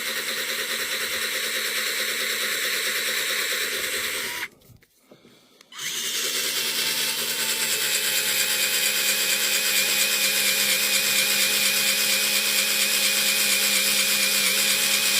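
A power drill whines steadily and loudly, stops briefly, then starts again and keeps running without a break.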